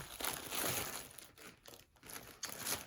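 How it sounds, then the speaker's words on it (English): A Dairy Queen A.1. Steakhouse Burger's paper wrapper is unwrapped close up: a few seconds of crinkling and rustling with short pauses, and no talking. "I'll unwrap it here."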